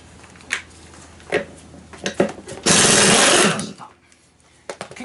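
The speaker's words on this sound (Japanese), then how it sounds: "インパクト最大にして" An impact wrench set to maximum hammers at a rear wheel bolt on a Honda Today scooter in a motorcycle shop, a loud sustained rattling burst of about a second amid scattered tool clanks.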